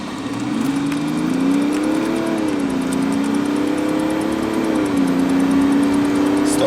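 A chipped BMW 525 tds with an automatic gearbox accelerates hard, its engine drone rising steadily in pitch with brief dips at gear changes, loud and close from inside the car.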